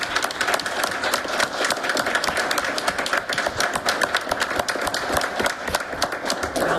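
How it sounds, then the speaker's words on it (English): Dense applause fills a school district awards ceremony, many hands clapping in a sustained, even wash from start to finish. "So we will give a round of applause to each of you."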